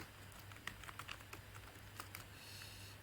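Quiet, irregular clicking of keys on a computer keyboard while code is typed, soft taps scattered over a steady low hum, with no voice.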